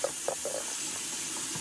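Water runs from a tap for washing clothes, a steady hissing stream with a few brief splashes early on, close and moderately loud with no talking.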